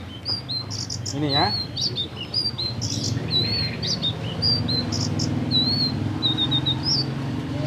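A caged blue-winged leafbird (selendang biru) sings a run of quick bright chirps and short whistled phrases, fairly close and repeated throughout, with a brief spoken remark near the start.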